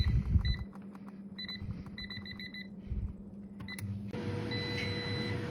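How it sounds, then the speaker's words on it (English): A Ninja Foodi FlexDrawer air fryer beeps when its cooking is done: a quick double beep, then a pair, then a run of four rapid beeps, followed by a longer steady tone over faint kitchen background noise. "it's beeping to tell me it's done"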